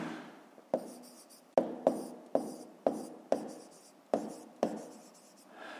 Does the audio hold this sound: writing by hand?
yes